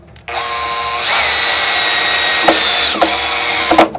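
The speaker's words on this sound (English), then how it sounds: "what happens when I drive this screw into this wood using this drill driver?" A cordless drill driver, dropped to clutch setting 7, drives a screw into a piece of wood in a few seconds: a loud, steady whine with a rising pitch, a brief dip in speed partway through, and it stops abruptly as the screw seats.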